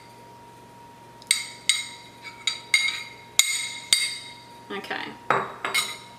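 Metal utensil scraping and clinking against a large casserole dish while stirring chicken tinga dip with salt, pepper and queso fresco, a series of sharp close knocks and scrapes in uneven rhythm, with one brief spoken word.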